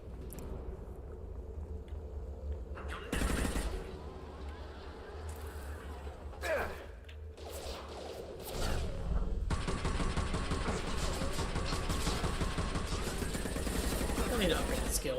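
Rapid bursts of video game gunfire from Mass Effect 2 Legendary Edition, dense and loud, with sharp shots and a sustained volley in the second half, mixed with game effects and occasional player exclamations.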